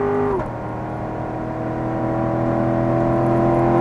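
A car's engine pulls hard after an upshift on a track, a steady droning whir with clear tones. The pitch drops at the shift, then climbs and grows louder as the car accelerates.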